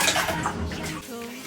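Pieces of pork liver are rinsed in water, giving a brief close swish and splash of water being stirred by hand in a bowl.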